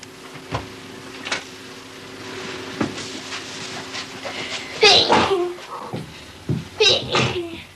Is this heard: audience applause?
no